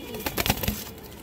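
A big pigeon gives a brief, low coo up close, a short burst of throaty notes with a soft rustle around it.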